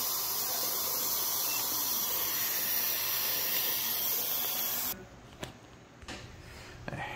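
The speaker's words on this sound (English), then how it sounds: "And now that is where it's open, shooting out steam." Steam hissing out of an open vent on a Midmark M11 autoclave showing a steam error: a loud, steady broadband hiss for about five seconds that cuts off abruptly, followed by a few faint clicks and handling noises.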